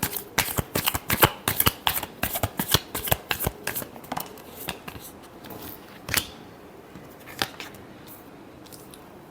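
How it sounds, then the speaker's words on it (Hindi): Tarot cards being shuffled by hand: quick, crisp riffling flutters and slaps in a dense rhythmic run that thins into a few scattered card snaps, close and fairly loud with no talking. "Last shuffle."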